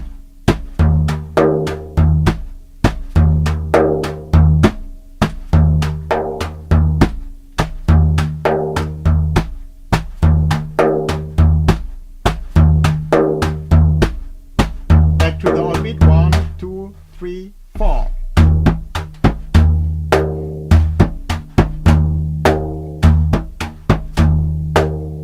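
Frame drum played with a brush, a steady rhythmic groove of dense repeated strikes that shifts its accent from the on beat to the off beat, close and loud with no talking.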